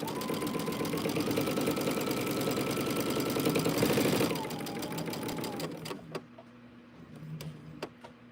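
A sewing machine appliqués onto a quilt under the presser foot, running in a fast, continuous whirring stitch. It eases off, then falls to scattered clicks and short bursts of stitching.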